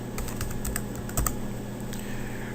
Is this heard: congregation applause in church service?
no